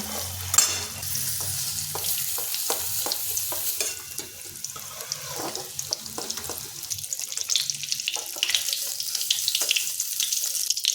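Paneer cubes fry in hot oil in a pan while making matar paneer, a steady close sizzle with clinks and stirring scrapes running throughout, no one talking.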